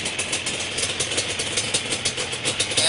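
A freshly rebuilt Yamaha Banshee ATV two-stroke engine idles close by, a steady buzzing putter with quick rhythmic pulses and a slight rise near the end, with no one speaking.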